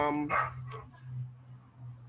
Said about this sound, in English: I do apologize every single time for my dogs barking